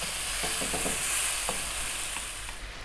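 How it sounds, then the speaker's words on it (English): Tomatoes fry in a pan as they break down and release moisture, with a soft steady sizzle and a few brief scraping stirs early on and near the middle. No one speaks. "what we're looking for is to break the tomatoes down, and they will give off a certain amount of moisture"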